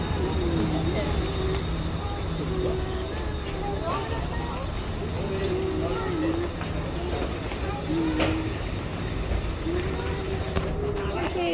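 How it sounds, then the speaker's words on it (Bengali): A Singapore metro train on the North East Line pulls away, its steady low rumble and rising whine filling the carriage while passengers talk over the noise. "ট্রেনটা ছাড়লে কিন্তু একটা ধাক্কা খাবে,"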